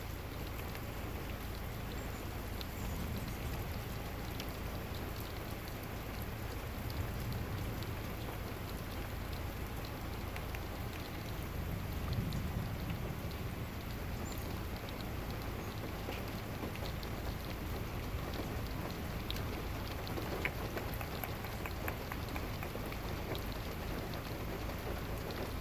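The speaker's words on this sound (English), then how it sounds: "in the pouring down rain in the car" Pouring rain during a storm, heard from inside a car, patters steadily and evenly on the surfaces around it, moderately faint and unbroken, with no voices.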